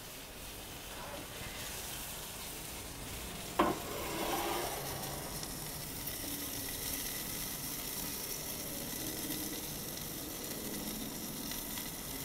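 NY strip steak sizzling and frying in a Lodge cast iron skillet heated in an Ooni Koda 16 pizza oven, a continuous close hiss with a brief sharp clatter early on.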